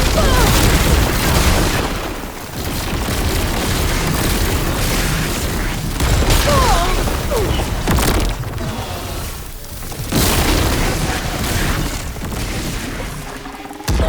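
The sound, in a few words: explosion in video game Horizon Forbidden West Burning Shores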